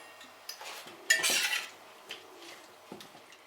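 A spoon clinks and scrapes against a bowl while mixing a Korean-style champignon mushroom salad with salt and soy sauce, giving a few close, quiet taps and one louder rattling stir.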